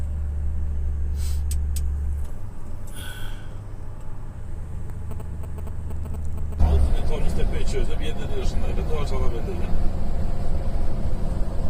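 Steady low engine rumble and road noise from inside a truck descending a mountain road in Kyrgyzstan, with a shift in gear or road surface partway through and intermittent squeaks and rattles.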